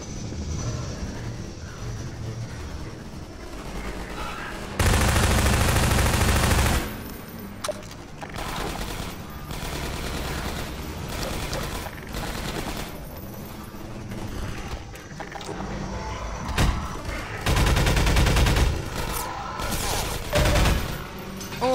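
Heavy gunfire in Half-Life 2: Episode One erupts in loud sustained bursts, with thick fusillades and scattered single shots repeating across a long battle sequence.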